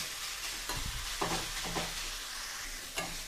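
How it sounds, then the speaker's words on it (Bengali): Grated raw papaya is stirred in a pan with a spoon, giving several close scraping strokes over a faint, steady sizzle, quiet and with no talk. "আমরা কনস্ট্যান্ট এটাকে নাড়ব।"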